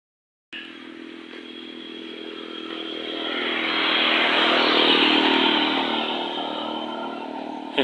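A motorcycle on a road through Rwanda's Nyungwe forest approaches and passes, its engine drone swelling from moderate to loud near the middle, then easing away, heard alone without talk.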